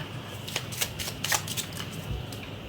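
Deck of tarot cards being shuffled by hand, producing soft, close riffling bursts and flicks that repeat unevenly over a few seconds against a quiet room hum.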